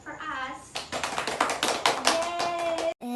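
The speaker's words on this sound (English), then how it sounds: "Applause for us." A voice speaks briefly, then a short burst of quick clapping from a small group follows, with voices cheering over it before it cuts off.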